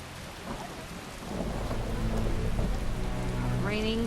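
Heavy rain pours steadily in The Witcher video game, building in intensity, with low rumbling thunder rolling underneath and a brief tonal game effect near the end.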